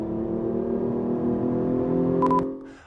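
A Hyundai Genesis Coupe 3.8-liter V6 with an intake noise generator pulls steadily, its engine note droning evenly and rising slightly before cutting off abruptly, with a brief electronic beep near the end.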